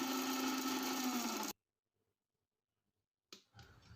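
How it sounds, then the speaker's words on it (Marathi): A mixer grinder grinds green chillies, cumin and garlic with a loud, steady motor whine for about a second and a half. It then cuts to silence, and a short burst of rattling follows near the end. "मिक्सरच्या भांड्यात नऊ ते दहा हिरव्या मिरच्या एक चमचा जिरे आणि सात ते आठ लसूण पाकळ्या इथे वाटून घ्यायचं आहे"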